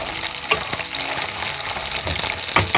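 Onions frying for kovakkai gravy, a close, bright sizzle with quick scraping stirs of a spoon in the pan every second or so.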